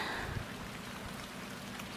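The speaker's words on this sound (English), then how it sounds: "it's rainy as hell out here in Maryland right now." Steady rain falls outdoors in Maryland, a continuous broadband hiss at a moderate, even level with no talking over it.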